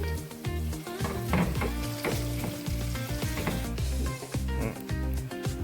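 Mashed potato with a pinch of asafoetida fries in a pan, a loud, dense sizzle running throughout with rhythmic scraping and knocking of a spoon stirring it; no one speaks.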